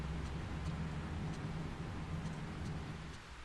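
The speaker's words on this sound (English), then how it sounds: "There's something comforting about the sound of rain" Light drizzle falling on a house in the video game Project Zero 3, a steady soft hiss of rain with faint ticking, continuous and even throughout.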